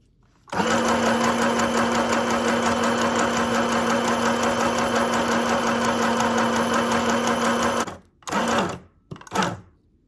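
A portable sewing machine stitching a back stitch whirs steadily and loudly for about seven seconds, then stops and gives two short bursts of stitching.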